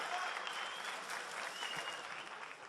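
Steady applause from an audience at a League of Legends cosplay contest winter final, greeting a cosplayer in a foam and silicone-glued costume; dense, even clapping fills the whole stretch at moderate loudness without a break.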